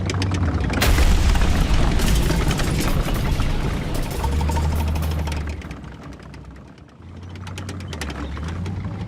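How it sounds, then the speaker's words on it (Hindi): A guided missile strikes a Merkava tank in wartime, producing a heavy booming blast followed by sustained rumbling roar that fades, then a second surge of low rumble. "हिजबुल्लाह ने एक वीडियो जारी किया है जिसके जरिए उसका दावा है कि गाइडेड मिसाइल से उसने मार्कवा टैंक को उड़ा दिया।"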